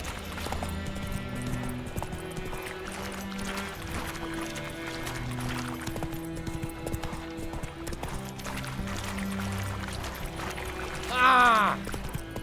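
Hooves gallop in The Witcher 3, quietly rhythmic under a bed of game music. A horse whinnies briefly and loudly near the end.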